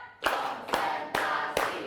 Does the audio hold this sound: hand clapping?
yes